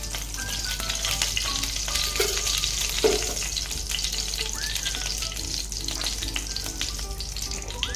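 Oil heating and sizzling in a kadhai, two spoonfuls poured in to temper dry cluster bean sabzi, a steady close frying hiss with brief crackles and stirring clinks, plus a faint background tone.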